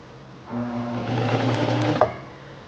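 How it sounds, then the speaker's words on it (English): A Singer Simple household sewing machine runs in reverse for a few stitches: a steady, fairly quiet motor hum with rapid needle chatter for about one and a half seconds, ending in a small click as it stops. "press and hold the reverse lever, and sew backwards a few stitches"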